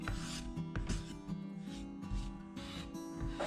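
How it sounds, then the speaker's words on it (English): A hand scraper drawn over a basswood carving gives repeated short rasping strokes at close range, set against a steady tonal musical background. "With basswood, I find I get a much nicer finish if I use a scraper"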